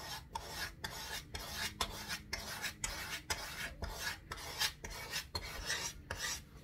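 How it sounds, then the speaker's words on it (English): Steady rhythmic scraping strokes of a hand scraper on violin wood, a dry rasping shave repeated about a dozen times with short pauses between, close and fairly quiet. "The tool I'm using here is called a scraper."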